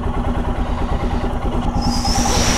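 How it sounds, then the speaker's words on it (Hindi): A Royal Enfield Himalayan BSIV motorcycle engine idles steadily and loudly after a cold start, with a low, even chugging that carries on throughout. "एक बार कोल्ड स्टार्ट कर देते हैं।"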